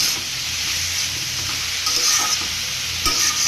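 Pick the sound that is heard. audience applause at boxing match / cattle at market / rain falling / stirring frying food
stirring frying food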